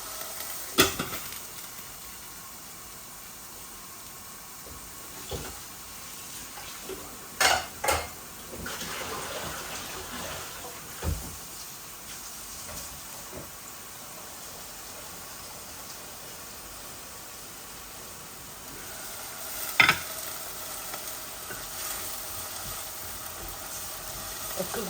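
Tomato and onion fry in a pan for a chicken dish, a steady low sizzle running throughout with occasional utensil clanks and scrapes against the pan, no talking.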